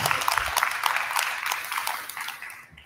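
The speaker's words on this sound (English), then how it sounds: "a round of applause" An audience claps at an evening event, a brief burst of applause that is full at first and then thins and fades out within about three seconds.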